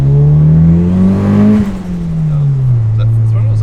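Turbocharged Mitsubishi Lancer on the street at full throttle, engine note climbing loud and close with strong harmonic drone, then easing down to a steadier lower tone after a brief shift, with a voice faintly in the background.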